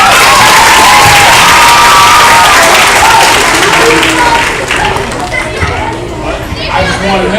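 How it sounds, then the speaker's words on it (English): Children at an elementary school assembly clap, cheer and shout loudly for a guest, a dense roar of clapping and excited young voices that eases slightly toward the end. "give him a hand applause."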